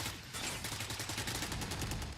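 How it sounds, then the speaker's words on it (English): Rapid gunfire in a Valorant match, a steady rattle of repeated shots firing in quick bursts, fairly faint and distant in the mix, with no voices over it. "that's a lot of gunshots from Fnatic"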